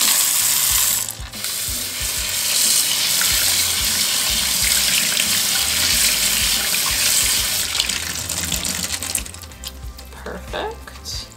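Water gushes steadily through a potted plant's soil and roots during a flush, a dense continuous pour with clicking and trickling near the end.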